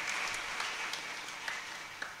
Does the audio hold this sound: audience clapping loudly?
yes